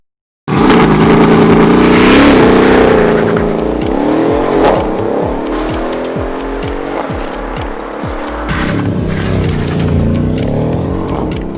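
A Mercedes-Benz CLS63 AMG V8 roars to life and revs hard, then settles into a deep burbling idle with popping exhaust pulses, loud and close.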